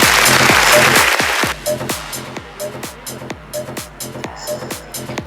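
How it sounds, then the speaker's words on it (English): An evening audience at a power women world record event applauds a guest, a loud burst of dense clapping that drops off after about a second and a half, followed by rhythmic thumping beats with music. "A huge round of applause to her"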